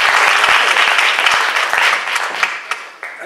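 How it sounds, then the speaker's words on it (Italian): A theatre audience applauds after a saltarello dance performed while balancing copper basins without hands, a thick burst of clapping that thins out toward the end, leaving a few scattered claps. "Io credo che meritino un applauso ulteriore."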